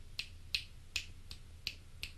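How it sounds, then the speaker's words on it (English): Six crisp finger snaps land at roughly even intervals into a microphone in a quiet room, each a sharp isolated click. "and then if I snap my fingers"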